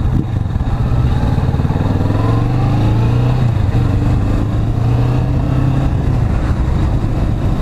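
Kawasaki Vulcan S cruiser motorcycle engine running close by: a loud, steady throbbing drone whose pitch wavers and rises slightly as it revs.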